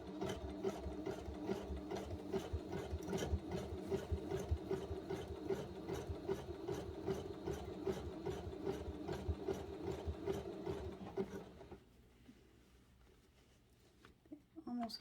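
A sewing machine stitching denim jeans, being made into a tote bag, runs with a fast, even chatter of needle strokes for about twelve seconds, then stops and leaves quiet room noise with a few small clicks.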